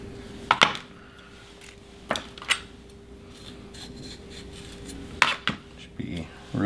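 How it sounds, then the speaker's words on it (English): A knife scraping seeds and white pith out of a pepper, several short scrapes and taps against a cutting board in small clusters over a quiet low hum, close by. "we're going to pull out the seeds and this white stuff. You need to use your knife"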